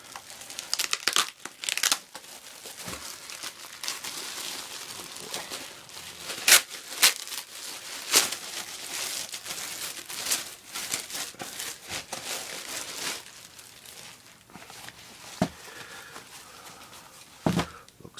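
Plastic wrapping crinkles and tears in bursts of rustling and crumpling, close up, with sharp snaps as the package is pulled open.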